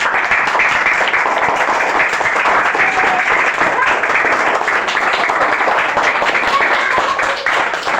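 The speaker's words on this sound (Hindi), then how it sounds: "ताली बजा दो" An audience breaks into loud, sustained applause at a class session, a dense and continuous clatter of many hands clapping that holds steady for the whole stretch.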